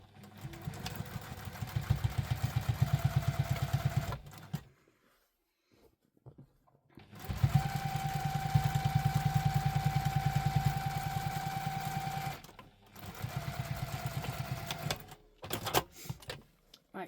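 A sewing machine top-stitches a wallet in two long runs of close, steady whirring with a brief quiet gap between them, followed by a few shorter bursts and clicks near the end.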